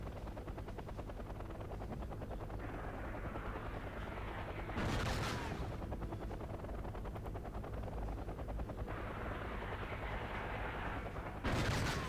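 Battlefield din from the video game Wargame: Red Dragon, a steady rumble of helicopter rotors and engines under scattered gunfire, with two loud broadband bursts of fire or explosions standing out, alone without talk.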